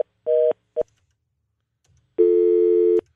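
Telephone busy signal from a failed phone call: a few short tone bursts, then one long steady beep, loud and clean with silence between.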